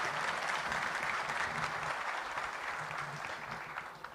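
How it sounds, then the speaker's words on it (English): Audience applauding at the official inauguration ceremony of the Bangladesh Investment Summit 2025, a steady, dense wash of clapping from a large crowd that holds for several seconds and thins slightly at the end. "Could we please have a round of applause for them?"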